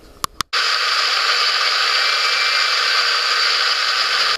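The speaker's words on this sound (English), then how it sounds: "So we're going to put them all in a blender and make our rub" A blender whirs steadily and loudly, blending scallions and spices into a jerk rub for ribs, after a couple of brief clicks as it starts.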